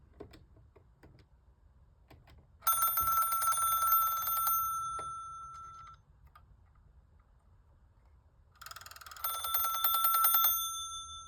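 A Cortelco Classic telephone with its ringer set to the loud position gives two loud bursts of bright metallic bell ringing, with quiet clicks and handling noise between the rings.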